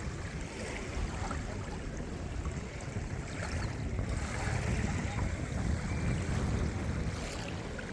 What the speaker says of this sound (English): Check out how pristine and soft these waves are.